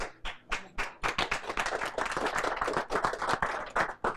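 Audience applause for a speaker at an evening presentation on personal protective equipment, a burst of scattered individual claps building into steady clapping from a room of people, fairly close and without talk.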